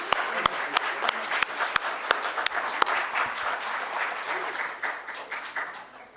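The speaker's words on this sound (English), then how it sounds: "Let us give a big hand of applause to all the speakers." An audience at a symposium gives the speakers a round of applause: a few sharp individual claps, then a thinning wash of clapping that fades toward the end.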